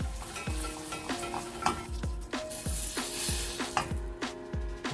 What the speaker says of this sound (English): I'll whisk it.